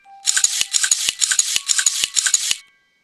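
An air pump inflates an old bicycle tire in a horror farm video game, sounding as five evenly spaced, breathy pumping strokes with short clicks between them, close and clear with no talking.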